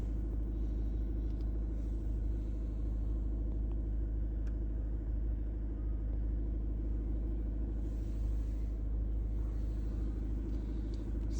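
A car that just had its rear tyres replaced sits running at a steady low idle, a deep continuous rumble that stays quiet and unchanging throughout.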